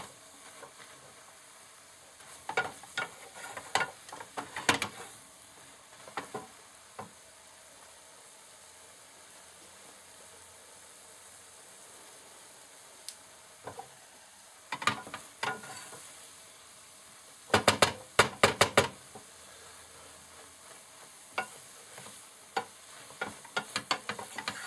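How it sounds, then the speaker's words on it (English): Noodles frying in a pan with leek, a quiet background sizzle broken by scattered scraping and clattering bursts as they are stirred, the loudest clusters around the middle and end. "we're frying it right now to get the noodles nice and brownish"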